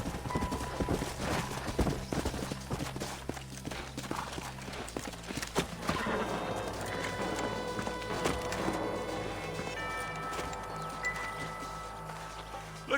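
Horses' hooves clip-clop in Red Dead Redemption 2, a close, irregular run of hoof strikes with scattered clatter, then a denser passage layered with rustling and faint game music and ambience.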